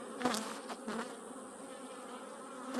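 Honey bees buzz steadily around a hive super as a frame is lifted out, a close, continuous drone with a few louder passes of individual bees.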